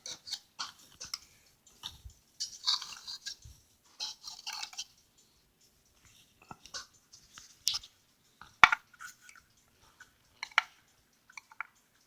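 Small screws are being taken out of a Hubert Herr one-day cuckoo clock with a magnetic screwdriver, giving sparse, close, quiet clicks and light metallic scrapes with pauses between them.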